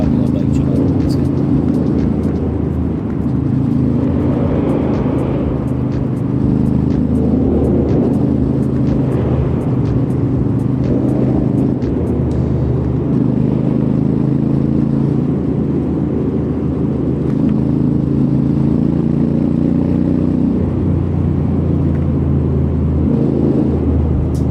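A motorbike ridden along a smooth hill road near Kasol on the way back to Delhi, with a steady low engine drone and wind rumble that hold constant and close throughout.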